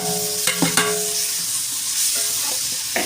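Crushed garlic and ginger sizzle in a pan for chicken curry, a steady hissing fry broken by a few sharp stirring scrapes and clacks of a spatula.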